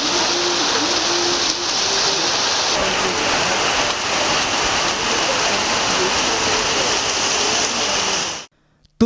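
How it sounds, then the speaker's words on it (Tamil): Heavy rain pouring steadily in a Tamil Nadu district, a dense continuous hiss close by that holds loud throughout, then cuts off abruptly near the end. "இரண்டாவது நாளாக மீண்டும் கனமழை பெய்தது"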